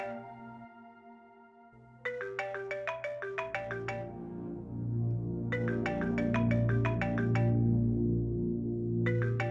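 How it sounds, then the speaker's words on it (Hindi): A phone ringtone plays repeated bursts of bright electronic beeps, pausing between rings, loud and close over a low background hum. "बेल बज रही है।"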